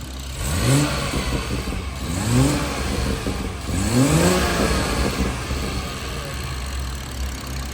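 A BMW 240i with stock induction blips its engine three times in quick succession, each rev rising sharply and falling back to a steady idle, heard close and without talk.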